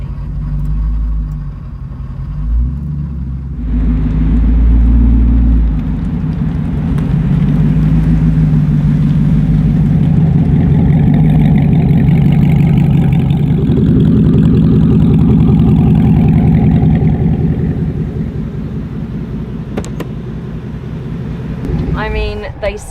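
Devel Sixteen supercar engine running loud and steady near the listener, a deep rumbling idle that swells into sustained revving before easing off, with faint voices underneath.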